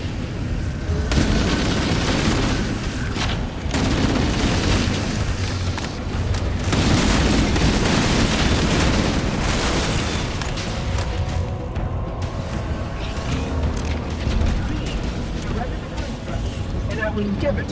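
Explosions rip through fusion reactor cores in Halo, a dense run of loud, booming blasts and heavy rumble that keeps going for many seconds, with a voice speaking over the din.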